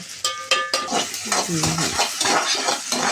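Finely chopped onion hits hot oil in a pot for a mutton rassa: a few sharp metal clinks open, then a steady close sizzle with stirring scrapes, and a brief murmur of voice in the middle.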